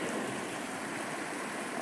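Creek water flowing at a stream crossing, a steady broadband rushing wash heard continuously and fairly close, with no voices.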